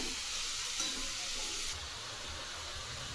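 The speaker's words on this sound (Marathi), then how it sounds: "जोपर्यंत आपल्या गाजराचा कलर बदलत नाही तोपर्यंत कमी गॅसवर आपल्याला हे गाजर परतून घ्यायचे आहेत" Carrots are sautéed on low gas for carrot halwa, giving a soft, steady sizzle with no voices; the hiss eases slightly partway through.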